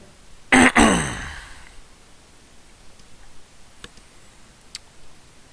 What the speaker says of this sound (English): you guys are hearing me clearing my throat more than I normally do